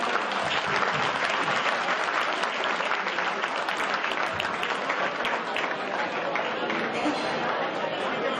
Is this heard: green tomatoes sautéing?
no